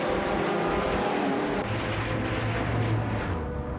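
Race cars roar around the Dijon-Prenois Short track in a racing video game, loud droning engines with a pitch shift as cars pass close by in a tight pack.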